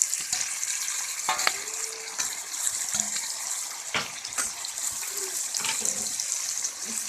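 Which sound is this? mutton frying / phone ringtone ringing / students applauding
mutton frying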